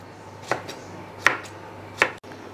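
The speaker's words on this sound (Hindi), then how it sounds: "देखिए थोड़ा सा हम टेढ़ा रखेंगे और ये बीज का निकाल देंगे और इसे भी हम स्लाइस में काट लेंगे" Three sharp, close knife strokes cutting through a pineapple on a board, each a crisp chop spaced about three-quarters of a second apart, with no talking.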